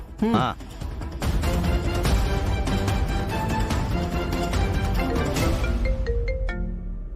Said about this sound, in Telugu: ఇదిగో లీలాకృష్ణ గారు ఫోన్ చేస్తున్నారు.